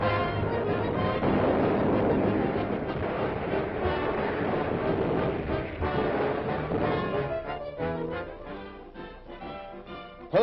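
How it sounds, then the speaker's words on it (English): Heavy blasts and rumbling booms from a US Navy bombardment of oil tanks in the Marshall Islands roll on continuously, loud and dense, with a rattling, clattering texture toward the end, heard through old narrow-band newsreel audio. "Oil tanks explode."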